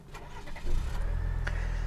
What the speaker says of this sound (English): here you can hear it starts up pretty nicely, although I do hear a noticeable whine from the engine